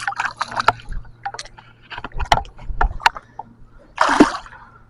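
Water splashing close by as a battered fish caught on a summer multi-species outing is released, with several sharp sloshes and one bigger splash near the end, and a little faint voice in the background.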